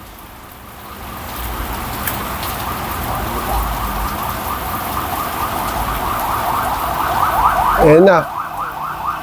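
An ambulance siren wails in rising and falling sweeps from a distance, growing louder and peaking near the end as it passes a butcher shop during deboning work. Steady rain-like hiss sits underneath, and a voice speaks briefly.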